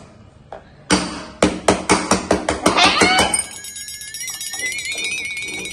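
A spatula is struck repeatedly by hand for a coin magic trick, producing about ten sharp, close metallic taps in quick succession that ring on into a high, sustained tone.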